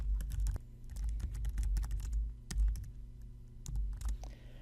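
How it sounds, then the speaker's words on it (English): Rapid clicking of a computer keyboard as a message is typed, with uneven bursts of keystrokes close up over a low steady hum, no voices. "You just click on and then type the message."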